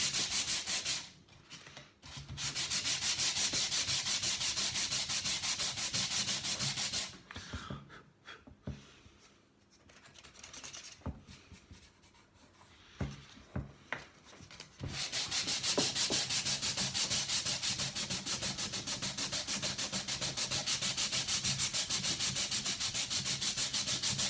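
Hand sanding on the outer wood of shelves makes a dense, continuous scraping rasp, breaking off for several seconds in the middle with scattered rubbing and knocks before resuming strongly to the end.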